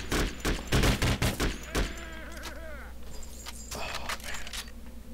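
Rapid bursts of gunfire crack loud and close in the online co-op game Conflict: Global Terror, a fast volley of shots followed by sparser single reports and faint ringing tones.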